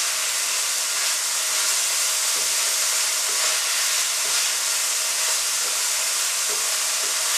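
Sliced mushrooms frying in a pan give off a steady, dense sizzle and hiss that holds evenly from start to finish, with no talking over it.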